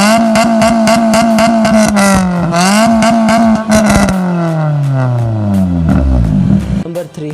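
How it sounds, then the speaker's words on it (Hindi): A car fitted with a loud modified exhaust revs hard, its engine note rising and falling through several sharp blips before settling and fading into a low rumble, close and very loud. "आप अपनी गाड़ी में लाउड एग्जॉस्ट लगवाते हैं जिससे बहुत ज़्यादा नॉइज़ पोल्यूशन होती है"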